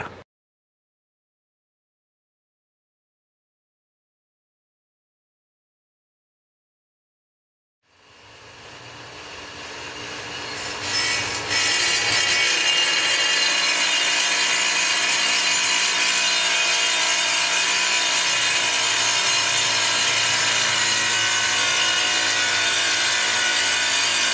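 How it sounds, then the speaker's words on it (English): A power saw cuts through granite countertop tiles, starting after several seconds of silence with a rising whine that settles into a steady, loud, harsh grinding held close and continuous. "it's time to start laying out and cutting your granite tiles"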